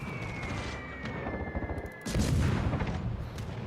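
Airstrikes land in World of Warships in a burst of deep booms and rumbling blasts, loudest near the end, over a thin whining tone and game background noise.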